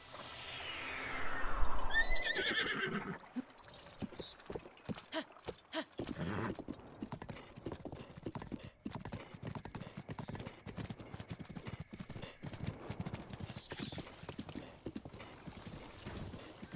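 Hooves clip-clop on a horse in The Legend of Zelda: Breath of the Wild, with a neigh early on, then a steady rhythmic gallop of hoofbeats continuing throughout at moderate loudness.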